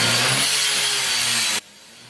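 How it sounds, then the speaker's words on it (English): An angle grinder cutting through stripped screws in a ceiling, a loud, close, continuous high whine that stops abruptly after about a second and a half. "I got out the angle grinder and started grinding away"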